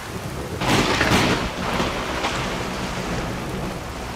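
A thunderstorm brings a loud rolling rumble of thunder that swells early and slowly fades, over a continuous hiss of heavy rain, with no voices.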